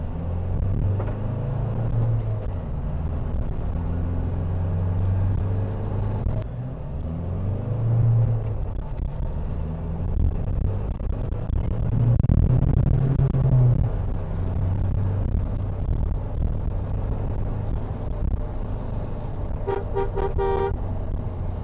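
A Mahindra Thar Earth Edition drives in four-wheel drive, its engine a steady loud low rumble that swells and eases under throttle, with a brief horn toot near the end.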